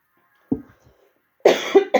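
Coughing fits from someone with a scratchy, irritated throat, one short cough followed by a cluster of two or three harsher, louder coughs close to the microphone.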